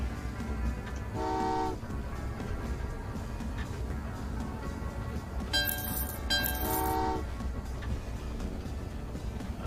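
Trains in the railway building game Train Valley 2, with two short bright horn toots over a steady low rumble of rolling trains, playing alone without speech.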